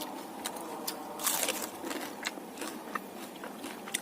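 Crunchy fried snack bitten together with chili, made as an Indonesian fritter for breaking the fast; a loud crisp crunch burst near the start, then smaller close crackles and chewing bites scattered throughout, with no talking.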